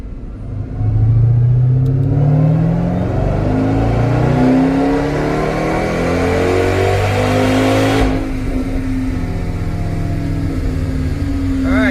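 A flex-fuel tuned turbocharged car engine revs hard through a boost pull, droning loudly as its pitch climbs steadily for about seven seconds before easing off into a lower, sustained rumble.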